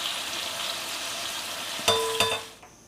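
Cauliflower, potatoes and peas fry in oil with a continuous crackling sizzle, interrupted near the end by two quick stirring clinks of a utensil against the pan before the sound fades.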